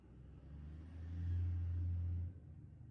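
Car engines rumble and rev, swelling to a loud, steady roar for about a second before dropping back to a lower drone; no voices.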